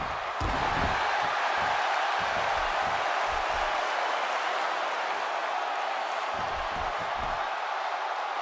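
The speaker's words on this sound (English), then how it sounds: "The crowd is buzzing." A steady roar of a big arena crowd fills the WWE 2K16 wrestling game broadcast at Extreme Rules, constant and loud, with low thumps of ring action underneath.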